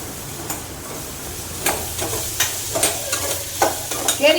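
Tempering spices fry in oil for a raw mango curry, a steady sizzle broken by scraping stirs and clinks of the spoon against the pan.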